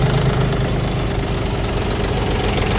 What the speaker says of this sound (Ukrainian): як все-таки тут працює тихенько мотор